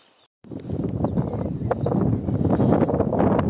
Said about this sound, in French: là il y a du vent. Et ça va peut-être siffler pour vous, pour la vidéo